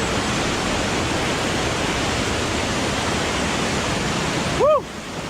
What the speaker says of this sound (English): The sounds of the running water, it's really, really nice.